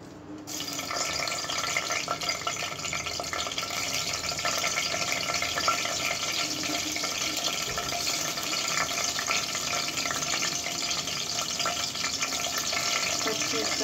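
Green chillies fry in hot oil for a fish masala curry, a loud, steady sizzle and crackle that holds evenly throughout.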